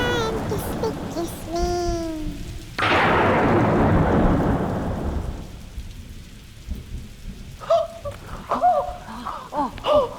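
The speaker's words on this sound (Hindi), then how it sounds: "जब तक ये तूफान थम नहीं जाता" A thunderstorm crashes in with a sudden loud burst of heavy rain that roars steadily, then thins as scattered voices and vocal sounds break through; singing is heard at the start.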